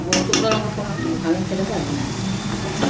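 Cumin seeds, bay leaves and whole garam masala sizzling in hot oil in a home kitchen, a steady close frying crackle with a few clinks of a pan and stirring, voices talking over it.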